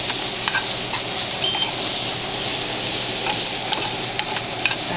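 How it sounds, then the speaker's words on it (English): Chicken frying in a pan on high heat in a home kitchen, a loud, continuous close sizzle with occasional stirring clicks and pops throughout. "I'm cooking my chicken now."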